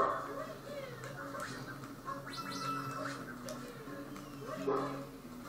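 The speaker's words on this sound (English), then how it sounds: "Dog ASMR, everybody." A dog whimpers and lets out soft yips and barks, faint and intermittent beneath steady video-game music, with a voice talking over it.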